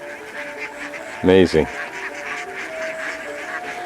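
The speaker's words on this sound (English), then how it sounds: "How many of you have ever seen a duck?" Ducks herded over from a pond beside a bamboo railroad in Battambang, Cambodia, give a brief burst of loud nearby quacking, with outdoor chatter and a voice speaking over it.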